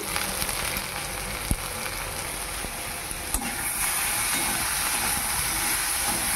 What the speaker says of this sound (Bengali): আলুগুলো অল্প ভেজে নেব।